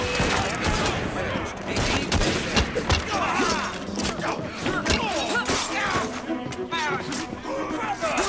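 Gunshots in the video game Assassin's Creed Syndicate crack out in a dense, continuous barrage over busy game sound, loud and close throughout, with voices mixed in.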